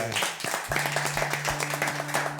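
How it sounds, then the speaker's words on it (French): A studio audience applauds a singer as he is welcomed on a television show, a sustained patter of clapping mixed with a low steady hum and faint voices. "On peut l'applaudir déjà"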